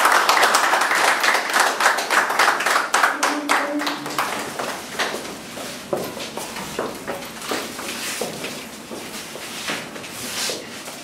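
Applause and cheering as committee leaders enter a room for a press conference: dense clapping from a crowd, loud at first and then easing into scattered claps with shuffling footsteps and some voices.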